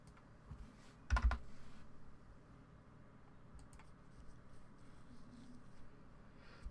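Computer keyboard typing, a brief burst of soft clicking with one louder clack, then scattered faint keystrokes against a quiet room hum.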